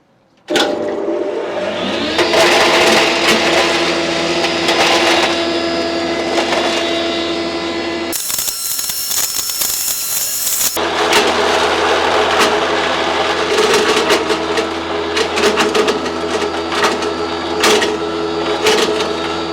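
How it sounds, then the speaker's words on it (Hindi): Combined 3-in-1 rice mill with hammer-type blades grinding red bricks, a loud continuous machine roar with dense rattling and crunching throughout, briefly interrupted by a harsh high-pitched hiss mid-way, then resuming steadily. "आइए अब हम इसकी मशीन के अंदर, इसके अंदर कितनी ताकत है, जो हैमर टाइप ब्लेड्स हैं वो कितने ताकतवर हैं, और लाल ईंटें आपको पीस के दिखाता हूं।"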